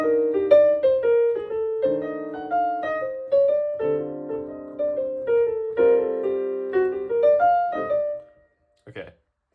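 Piano plays a major ii-V-I progression with a flat 9: a run of clear, close melodic notes over sustained chords, ending with a brief soft sound after a pause.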